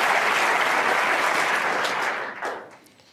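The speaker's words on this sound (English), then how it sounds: "And listen to the applause." A snooker crowd at the World Championship applauds a shot, a dense, close burst of clapping that holds steady then fades out over the last second.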